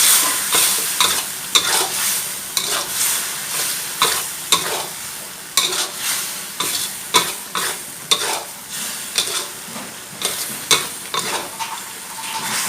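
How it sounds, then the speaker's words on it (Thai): Pork with red curry paste and sugar is stirred in a hot pan, with rhythmic scraping strokes of the utensil over a continuous close sizzle and no talking. "คนต่อครับ"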